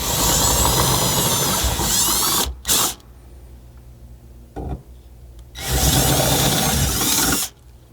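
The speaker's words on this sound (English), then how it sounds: "to open these 2 holes up to accommodate the nutserts, you're going to use the provided 23/64 drill bit" A drill with a 23/64 bit opens holes in light sheet metal on a 200 Series rear window MOLLE panel, running in two loud whirring bursts separated by a quieter gap with brief knocks.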